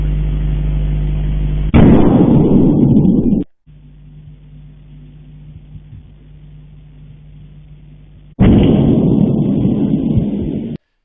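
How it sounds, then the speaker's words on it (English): Loud, distorted roaring blasts of an explosion near Bakhmut break in twice, separated by a quieter stretch of low rumbling; the bursts sound muffled and clipped, as if from a rough recording. "this is the sounds that were recorded of the explosion"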